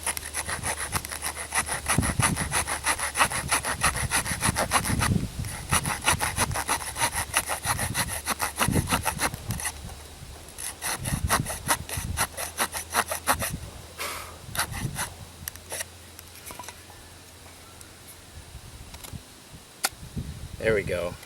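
A small Swiss Army knife saw rasps through wood in quick, steady back-and-forth strokes, close and continuous, pausing briefly midway before resuming.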